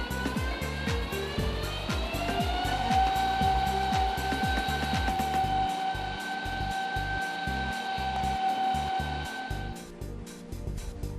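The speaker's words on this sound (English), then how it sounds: "The machine is now ready to over-laminate the rest of the media." SEAL 54 EL laminating machine running steadily, a continuous mechanical whir with a sustained whine and rhythmic motor pulsing throughout, fairly loud and close, easing off near the end.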